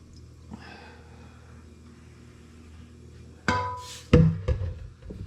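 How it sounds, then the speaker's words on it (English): Bacon grease poured into a bowl during breakfast cooking, heard as a couple of close splashing, sloshing bursts after a quiet stretch of faint room noise. "pour your grease in here."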